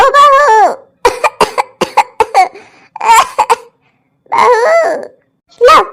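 An old woman coughs in a rapid series of harsh, close bursts, broken by throat-clearing and strained vocal sounds between fits.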